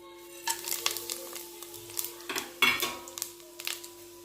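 Whole spices crackle and sizzle in hot oil in a pressure cooker pan for chicken biryani, close and moderately loud, with irregular metallic clinks and scrapes of a utensil stirring throughout.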